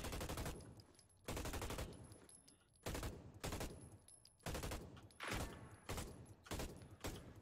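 Automatic gunfire in the video game Hyperscape rattles out in repeated close, loud bursts of about a second each, separated by short pauses, with a faint high tone in the gaps.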